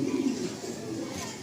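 A racing pigeon in a Kolkata loft gives a low, rolling coo up close, strongest at the start then trailing into a softer murmur, with faint background noise and no clear speech.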